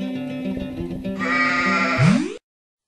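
A sheep bleats loudly and close, a long wavering cry that rises in pitch and cuts off abruptly, ending in silence.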